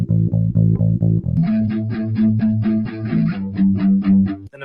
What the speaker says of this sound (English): Step 3, you gotta hit him with a bass line that sounds like this.